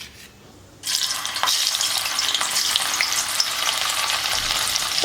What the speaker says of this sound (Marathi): आपण आता त्याच तेलात हे पनीर तळून घेणार आहोत.